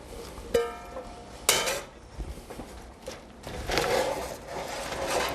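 Potato and cabbage go into a pot of simmering broth and onions, heard as a few close clanks and knocks of pot and utensils, then a soft splashing rustle; fairly quiet and with no talking.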